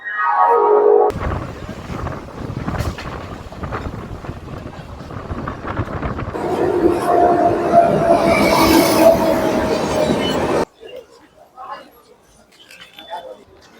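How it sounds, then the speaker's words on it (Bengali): A local train rumbles and clatters steadily at close range as it departs a station, growing louder and rougher midway, then cuts off to quieter ambience with faint distant voices. "ট্রেন ছাড়ছে ঠিক"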